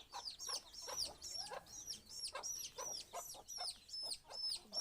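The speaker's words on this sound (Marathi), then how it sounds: "आम्ही पिले सोडतो कोंबड्यांची, दाखवतो तुम्हाला." Chickens and small chicks just let out of their coop cluck and cheep in quick repeated bursts, close and fairly quiet, with bird chirps threaded through and no talking.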